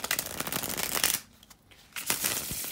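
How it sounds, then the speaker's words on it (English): Tarot cards are shuffled close by in dense riffling bursts, pausing briefly in the middle before another flurry of shuffling. "bear with me just a second, guys, to shuffle the tarot cards."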